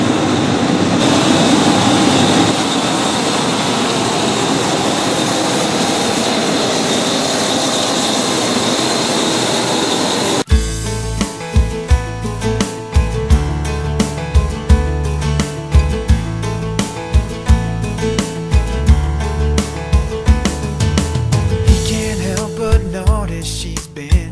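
EasyJet airplane jet engine, a loud steady roar at first, then a sudden shift to a rumbling, rattling drone with irregular thumps, continuous and close throughout.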